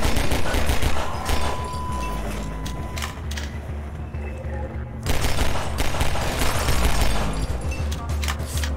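Sustained automatic gunfire in Half-Life 2, loud and close, with dense rattling bursts that briefly thin out mid-way before another heavy volley resumes.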